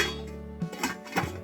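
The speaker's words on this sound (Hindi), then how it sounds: "बस अब मैं इसे ढक दूँगी" Clinks and knocks of a metal lid being set onto a cooking pot of simmering vegetables with peas in a home kitchen, a few short close clatters after a brief quiet hum.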